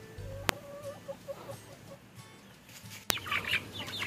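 Brahma chickens in a backyard flock cluck close by in soft, repeated low notes, with a couple of sharp knocks and brief flapping or rustling, and a burst of higher calls near the end.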